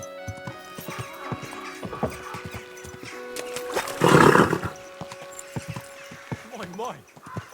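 Horse hooves clip-clopping in a medieval open-world game, a steady trot of soft thuds with a loud burst midway, under a man's calm speech and a whinny.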